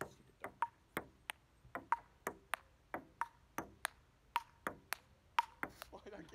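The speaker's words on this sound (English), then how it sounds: "It's ping pong." A ping pong ball clicks sharply off paddles and table in a quick back-and-forth rally, each tap bright and close.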